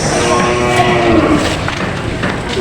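Several water buffalo low in long, drawn-out calls over a steady background din of a crowded livestock market in Padre Garcia, Batangas.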